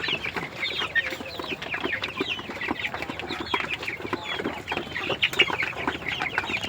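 Steady flock chatter of quail on a farm floor, countless short chirps and clucks overlapping throughout, close and moderately loud.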